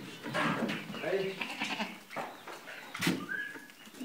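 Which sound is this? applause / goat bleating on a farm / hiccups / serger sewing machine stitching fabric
goat bleating on a farm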